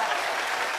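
Audience applause at a live judged show, a short steady burst of dense clapping that fills the room with no voices over it.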